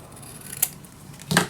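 Scissors cut paper for a mini album, two crisp snips about a second apart, close and clear with no talk.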